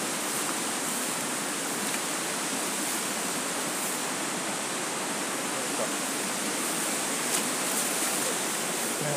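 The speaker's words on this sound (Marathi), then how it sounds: "मित्रांनो पहा आता हा वॉटरफॉल आहे समोर छोटासा" A small waterfall at a family outing spot pours in a steady, dense rush of white water, close and continuous with no pauses or voices throughout.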